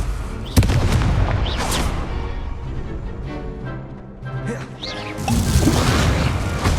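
A fiery Confringo blast spell goes off in the Hogwarts Legacy video game: a sharp, loud boom near the start, then crashing and rumbling impact effects that swell again toward the end.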